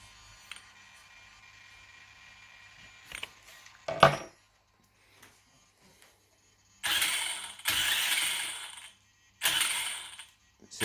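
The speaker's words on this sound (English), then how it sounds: "that's just me loosening that bolt" A wrench loosening a bolt while the wheel is held still: a sharp metallic clank followed by three long grinding, ratcheting bursts, close and fairly loud against near silence.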